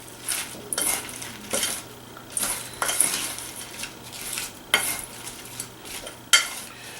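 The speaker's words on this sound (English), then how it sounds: "So all I'm going to do is stir everything around to coat." A utensil stirs pecans and salmon seasoning in a bowl, producing repeated light clinks and scraping taps at an irregular rhythm, close and fairly quiet with no voices.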